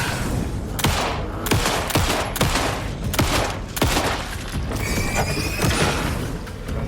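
Rapid shotgun blasts in Alan Wake 2, about nine sharp, loud reports spaced roughly every half to one second with mechanical pump clatter between them, no talking over the shots.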